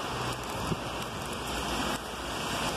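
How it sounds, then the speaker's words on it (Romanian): Freezing rain falls steadily in a park, a dense, even hiss of drops with faint scattered taps and no voices. "Ploaia înghețată a făcut ravagi."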